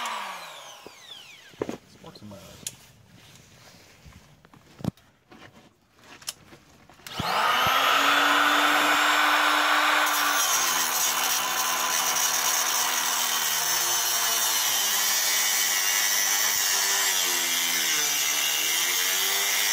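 A few sharp knocks and clanks, then a loud, continuous grinding whine of a power tool cutting a metal ear off a car suspension part, running steadily to the end with small pitch shifts.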